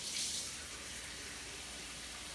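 Warm water runs from a tap over farm chicken eggs in a sink, a steady hissing stream that starts with a brief louder splash, then settles into an even, moderately quiet flow.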